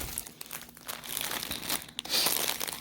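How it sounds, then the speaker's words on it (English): Plastic yarn packaging crinkles and crackles nearly continuously, with brighter crunches building near the end, close and fairly loud with no talking. "sorry about the crinkling"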